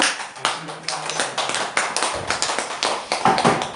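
A church congregation claps steadily together during a Sunday service, a dense patter of many hands applauding for several seconds at a lively, even pace.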